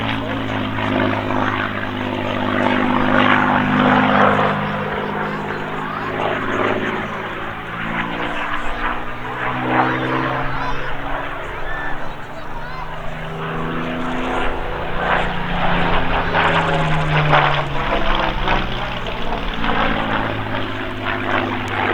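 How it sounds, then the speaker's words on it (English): A Spitfire Mk 16 with a Rolls-Royce Merlin 66 engine passes overhead at an airshow, its piston drone rising and falling with shifting pitch as it flies by, loud and sustained with no talk. "This is a Mark 16 with a Rolls-Royce Merlin 66."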